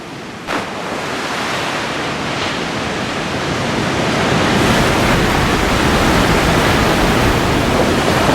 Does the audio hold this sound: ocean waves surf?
yes